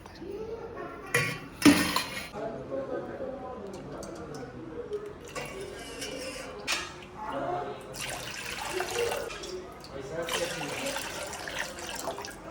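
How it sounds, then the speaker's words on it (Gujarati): Water is poured into three glasses while making a mango drink, with intermittent splashing and light glass clinks heard close by under ongoing talk. "હવે 3 ગ્લાસ પાણી ભરી દઈએ"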